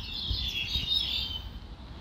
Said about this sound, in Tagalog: Maingay yung mga ibon dito.